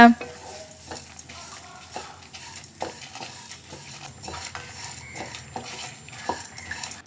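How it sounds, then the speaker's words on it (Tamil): Spices and coconut dry-roasted in a pan over moderate heat are stirred and scraped with a faint sizzle, producing steady clinks and scratches of a spoon against metal. "அளவான தீயில வச்சு நல்ல வாசம் வர வரைக்கும் வறுத்துக்கோங்க"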